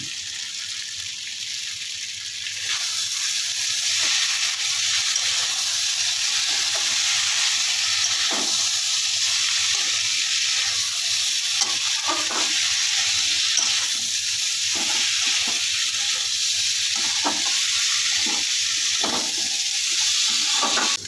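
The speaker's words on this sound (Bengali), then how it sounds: "মশলা আর সবজিগুলো ভালো করে কষানো হয়ে গেছে" Peas and chopped vegetables with spices sautéing in a pan for a vegetarian beet, carrot and cauliflower dish, giving a steady loud sizzle throughout, with occasional soft scrapes of a spatula stirring, close by and without talk.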